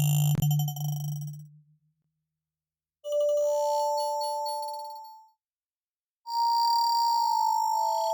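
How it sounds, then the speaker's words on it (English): Vital synth preset "A Happy Ending of the World" playing single held notes as a floating texture: a plucked chime-like attack, then two sustained bell-like tones separated by silence, moderately loud and alone. "I went into Vital, and I grabbed this A Happy Ending of the World plugin, or preset, and I'll play you what that sounds like."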